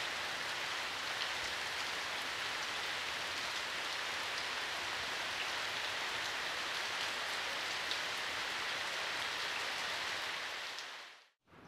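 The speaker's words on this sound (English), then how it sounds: "I find it comforting going to sleep to the sound of rain." Steady rain pours down at a remote hot-spring inn in wintry Tohoku, Japan, a dense, even hiss of drops on surfaces that holds constant for about eleven seconds before cutting off abruptly.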